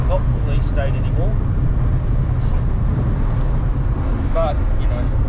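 A Renault Megane R225 with six gears cruising on an open road, a steady low engine and road drone filling the cabin throughout, with someone talking over it.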